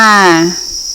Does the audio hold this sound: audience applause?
no